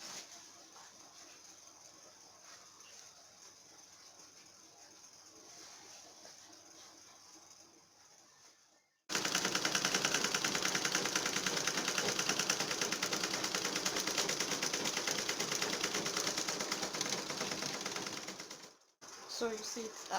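A sewing machine runs in a steady, fast continuous stitching burst for about ten seconds, sewing a skirt's lining to the fabric right sides together, preceded by quieter room sound.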